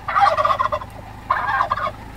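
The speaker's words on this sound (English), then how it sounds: "Are they turkeys?" Turkeys gobble loudly and close by in two rattling bursts separated by a short pause.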